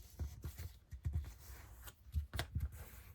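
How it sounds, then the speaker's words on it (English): Heavy printed paper being folded for a lapbook makes soft, close crinkles and creases in short irregular bursts, quiet and without talk. "So here's what I'm doing. I'm folding this"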